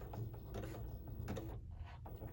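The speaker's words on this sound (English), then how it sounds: "I'm going to use a side-to-side zigzag stitch" A sewing machine works a side-to-side zigzag stitch through coiled rope on a rope bowl, giving a steady, close mechanical clatter with faint ratcheting ticks that runs continuously without talk.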